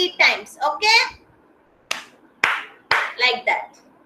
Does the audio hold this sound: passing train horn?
no